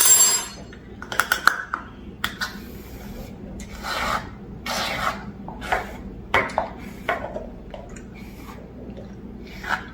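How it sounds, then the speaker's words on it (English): A butter knife scrapes and levels shaving cream slime in a cup, giving a series of short rubbing, rasping strokes with soft squishy pauses between them, close up. "I'm gonna bring out a butter knife to like level it."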